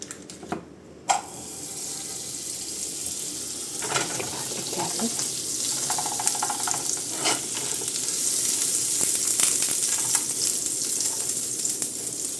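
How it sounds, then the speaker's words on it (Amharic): Butter melting in a pan ahead of frying fish and potatoes, a steady close sizzle and crackle that builds gradually, with a few clinks and stirring sounds along the way. "ቅቤ እያቀለጥኩ ነው"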